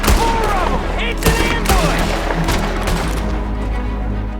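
Gunfire in Red Dead Redemption 2 comes as a loud ambush fusillade: dense, overlapping shots and cracks with booming thuds, heavy and continuous, over a dense noisy background.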